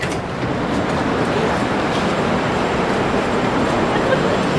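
A Moscow metro train rumbles steadily along, a constant dense roar of wheels and carriage noise without pause.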